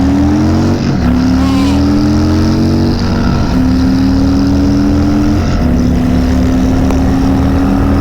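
A Harley-Davidson Milwaukee 8 motorcycle accelerates hard out of first gear, its engine note droning loud and close with a steadily climbing pitch that resets at each of several upshifts.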